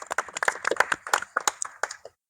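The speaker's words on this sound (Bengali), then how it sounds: "আমাদের প্রধান শিক্ষকের জন্য একটা করতালি দেওয়ার জন্য" A small outdoor crowd at a school cricket tournament claps for the headmaster. The sharp hand claps are brisk and uneven, close and fairly loud, and they die out after about two seconds.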